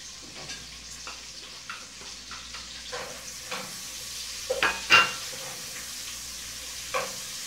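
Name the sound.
linguiça sausage frying with garlic and onion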